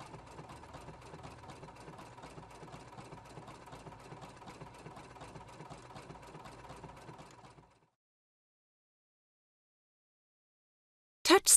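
A Husqvarna Viking Platinum Plus sewing machine stitches lace to a fabric edge with a fast, even mechanical rhythm for about seven seconds, then stops. After a quiet pause comes a short, sharp clatter.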